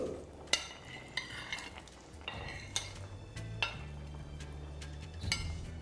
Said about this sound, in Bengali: ব্যাস এই স্টেজে আমাদের দিয়ে দিতে হবে ভেজে রাখা আলুগুলো।